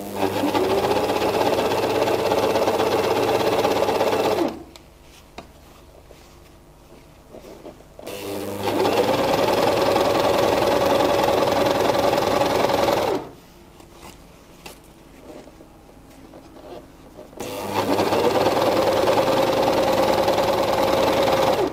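A Gritzner 788 overlocker sewing machine runs in two long, steady bursts with a pause between them, a loud, even mechanical whir that stops and restarts.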